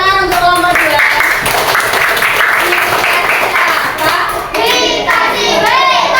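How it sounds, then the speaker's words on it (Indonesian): Primary school class of sixth graders clapping for a group in a classroom, rhythmic rounds of hand claps mixed with children's cheering and chanting voices, loud and close. "Beri tepuk tangan untuk kelompok 2."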